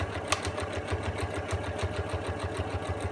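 A sewing machine runs a steady straight stitch around the edge of a fabric storage caddy, its rapid even needle rhythm close and continuous throughout.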